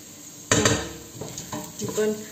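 A spoon knocks and scrapes in a pot as a red lentil soup mixture is stirred and sautéed, a sharp clatter followed by softer irregular scrapes, close up.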